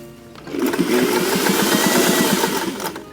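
A sewing machine runs steadily for a few seconds, stitching the understitching on a one-shoulder dress during an alteration, with a close, loud, rapid mechanical whir and rattle that starts and stops cleanly, no voices.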